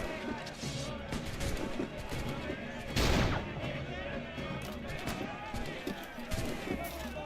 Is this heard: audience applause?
no